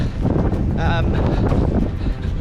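Wind buffets a microphone outdoors at a wet, muddy parkrun, producing a continuous low rumbling roar while someone talks over it.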